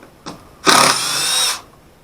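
A power drill removes screws while adding a USB power outlet, giving a short whir and then a steady buzzing spin of nearly a second, close and loud, in an otherwise quiet room.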